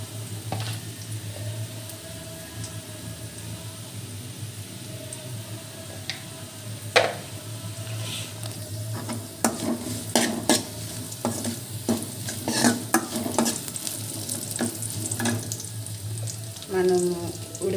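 Cumin and mustard seeds sizzle steadily in hot oil while a spoon stirs and scrapes the pan, with sharp clicks and pops growing busier toward the end, close and alone.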